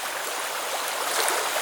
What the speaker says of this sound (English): I like to leach the tannins out and squeeze that water out